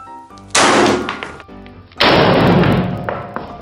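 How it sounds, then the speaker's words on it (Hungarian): Two sharp bursts crack out in a kitchen while potatoes are being peeled, each a sudden loud hiss-like blast that decays over about a second, the second one longer and sustained. "csak kicsit robbant, felrobbant egy picit"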